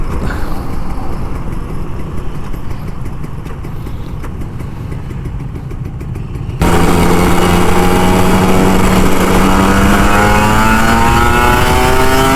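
A Kawasaki Ninja RR 150 motorcycle engine hums steadily, then revs up loud and close, its pitch climbing as it accelerates and holding strong to the end.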